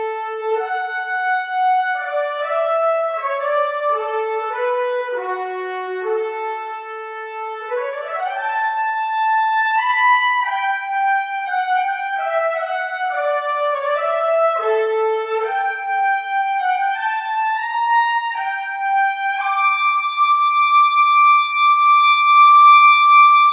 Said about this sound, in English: let's hear the Sonari Trumpets as well here